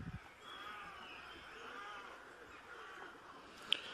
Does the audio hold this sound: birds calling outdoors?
yes